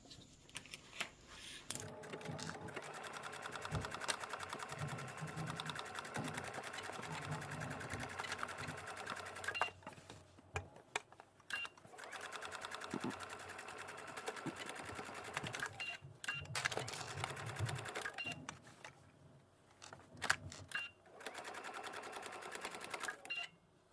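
A sewing machine runs in bursts stitching the front edges of a garment, steady needle chatter with brief pauses for pivoting, fairly close and quiet, no voices.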